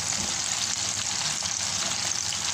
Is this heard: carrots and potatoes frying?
yes